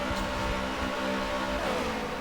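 A stock race car engine on an oval track at Homestead Miami drones at a steady high pitch, sounding slightly off compared with the other cars, with a faint pitch shift as it passes.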